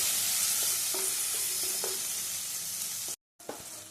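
Tomato pieces being stirred into masala frying in a pan for a jackfruit seed and coconut gravy curry, with a constant loud sizzle broken by a few spoon scrapes and a brief cut near the end.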